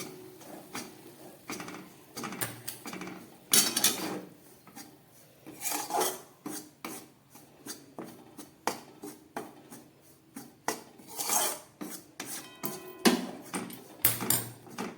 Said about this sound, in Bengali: একদম গ্যাস কমিয়ে ময়দাটাকে আমি খুব হালকা করে ভেজে নেব এই ঘিয়ের মধ্যে